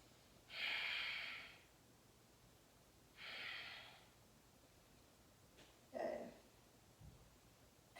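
Slow, audible breaths during a yoga flow, with long airy inhales and exhales separated by quiet pauses and a short sharper breath near the end, soft and close.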